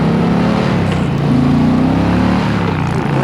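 A 2022 Indian Challenger Dark Horse motorcycle engine revs and climbs through gears quickly, pitch rising and dropping with each shift, loud and close.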